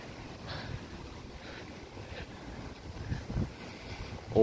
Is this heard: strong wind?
yes